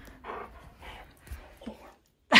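Husky whimpering and panting excitedly, a few soft breathy whines in a broken rhythm, close by, ending in a sudden louder burst.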